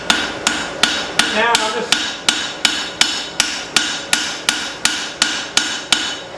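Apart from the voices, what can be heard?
hammer forging a spring steel cleaver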